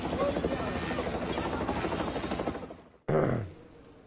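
A rescue helicopter flies during a flash flood operation in Nepal. Its loud, steady rotor chop stays close, then drops out abruptly before a brief burst of noise returns.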